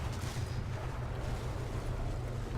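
Tank cannon fire and incoming hits from a Super Pershing battle in War Thunder, a dense, steady rumble of heavy booming shots and impacts that runs through the whole moment with no voices.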